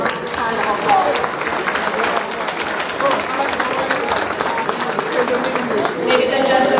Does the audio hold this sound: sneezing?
no